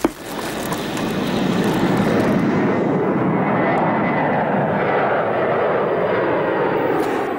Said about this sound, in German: Dürfen wir Sie nun bitten, sich zum Start anzuschnallen und die Rückenlehnen senkrecht zu stellen.